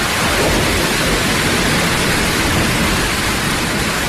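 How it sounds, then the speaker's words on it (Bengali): Dense, steady roar of heavy rain pouring down continuously, loud and close, with no pauses or voices. "তখন বৃষ্টি মুষলধারে পড়তে আরম্ভ করেছে"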